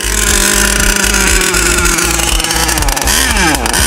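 Nitro engine of an HPI Savage XL Octane RC car running loud and steady after a pull start, with a buzzing, revving two-stroke drone and a few pitch swings toward the end.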